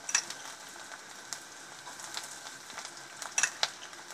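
Finely chopped garlic and ginger frying in oil in a pan for chilli paneer, a soft steady sizzle with a few louder crackles and pops, close and alone without talk.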